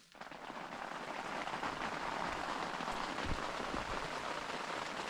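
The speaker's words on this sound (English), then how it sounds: "It's raining." Steady rain patters on an overhead shelter at a wilderness campsite, rising quickly to a dense, constant hiss that continues to the end with no talking.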